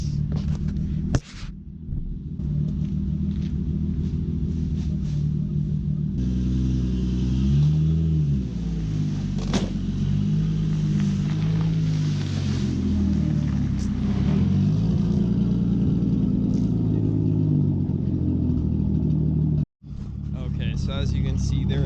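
A Nissan 240SX engine runs with a low steady rumble as the car creeps forward, the pitch shifting slightly as it moves, heard close with someone talking over much of it and a brief cut near the end.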